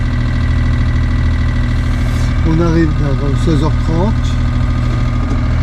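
The motor of a sailboat underway at five knots in the Balearics, a steady droning hum running throughout, loud and constant, with someone speaking briefly over it partway through.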